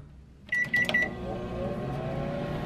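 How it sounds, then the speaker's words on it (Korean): A microwave oven heating a bowl of beef brisket in water, starting with a few beeps followed by a steady low hum that runs on alone. "그리고 이제 전자레인지에 2분을 돌려줍니다."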